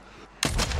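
A single loud, close gunshot from a rifle in Warzone 3 bursts in after a brief quiet moment and holds a heavy booming tail.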